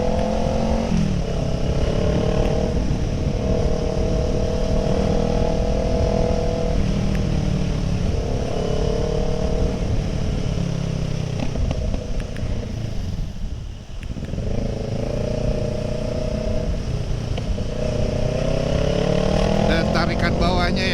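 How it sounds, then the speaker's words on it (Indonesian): A Kawasaki ER6N motorcycle revs up and down close by as a loud, continuous engine roar with rising and falling pitch, easing briefly midway before climbing again, while someone talks over it. "Enaknya buat harian tuh bisa ngegas gini pagi-pagi."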